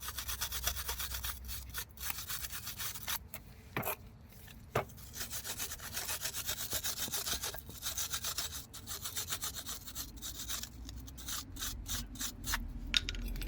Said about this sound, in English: Go ahead and give this a good brushing too.